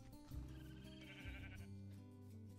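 A Minecraft goat bleats in drawn-out, wavering cries, two calls in quick succession, fairly quiet but clear against a soft game background.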